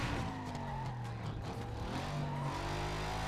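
A car engine in the video game Need For Speed Most Wanted roars and revs loudly and up close, with shifting pitch and tire squeal. The sound runs alone, without talk.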